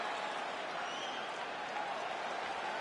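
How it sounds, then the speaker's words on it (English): A video game crowd at a UFC 5 fight applauds and cheers in a steady, dense wash of clapping and murmur after a round ends, continuous and even throughout with no break. "So the crowd voicing its appreciation after that round."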